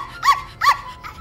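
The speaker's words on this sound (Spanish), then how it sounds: "Y eso fue lo que tanto asustó a mi perrito, Guau Guau" A small dog gives two sharp, high yapping barks close by, then a fainter third yip, with no talking.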